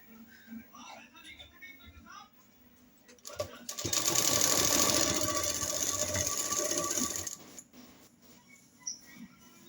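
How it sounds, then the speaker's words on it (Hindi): A sewing machine runs in one steady burst of stitching on a baby dress, loud and continuous for about three seconds, with quieter handling sounds before and after. "मैंने दोनों साइड सिलाई कर ली है"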